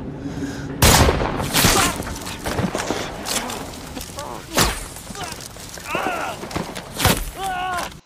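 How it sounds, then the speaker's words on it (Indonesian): Several sharp gunshots in a film crack out at irregular intervals over a busy background, with a voice talking and other noises between the shots. "Beberapa tembakan pun sempat menyasar ke arahnya"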